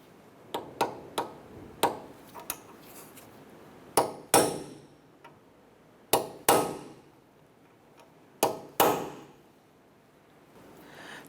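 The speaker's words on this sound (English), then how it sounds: "we're going to go ahead and use a punch, and we're going to dimple the axle nut" A hammer drives a punch to dimple the axle nut on a 2008-2012 Honda Accord during a driver-side knuckle replacement. About a dozen sharp metallic strikes come in small clusters with pauses between, close and ringing, and no talking.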